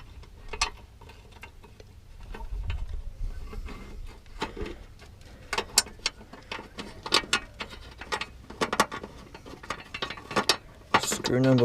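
A spanner turns screws on a Ford Ranger steering assembly during a steering wobble repair, giving a long run of close metallic clicks and ratcheting ticks in irregular bursts, fairly loud in a garage-like space.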